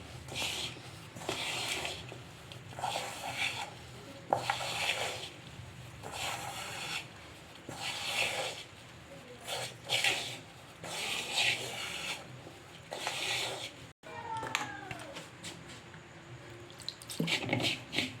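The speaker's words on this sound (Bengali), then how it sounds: "অল্প অল্প করে জল দিয়ে আমি এটা মেখে নেব" Hands kneading a dough of chira (flattened rice) and semolina with water, salt and oil, giving soft wet squishing and slapping in a slow repeated rhythm, close and quiet, with a brief sharper knock near the end.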